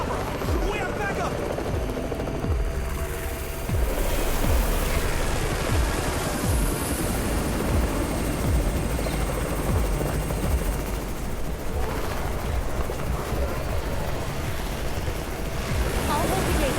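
Helicopter arriving in the zombie survival game Undawn: a heavy rotor roar with rumbling wash and gusty noise, loud and constant, with scattered thumps and crackles mixed in.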